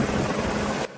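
Helicopter hovering overhead during a hoist training exercise with a tactical flight officer working the hoist, a loud steady rotor and engine roar that holds continuously, then drops off sharply near the end.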